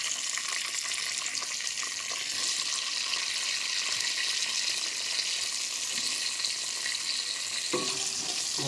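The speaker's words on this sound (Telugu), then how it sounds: "పచ్చిమిరపకాయలు అయితే వేస్తున్నాం అండి ఒకసారి అయితే తీసేసుకున్నాం సో అవి లైట్గా మగ్గిన తర్వాత ఇక వేసుకున్నాం" Green chillies frying in a pan for a drumstick and tomato curry, giving a steady, dense sizzle throughout with faint stirring clinks near the end.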